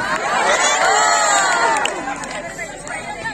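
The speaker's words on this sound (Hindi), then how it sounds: "जोरदार तालियां सामाइन" Audience at a humorous Urdu mushaira poetry gathering cheering and shouting loudly, a dense crowd roar that swells and then gradually eases off, with no clear applause claps standing out.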